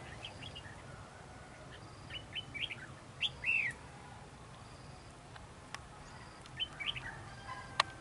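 Red-whiskered bulbuls call near a bird trap outdoors, several short bright chirps and whistled phrases scattered over steady low background noise, some louder and closer, others faint.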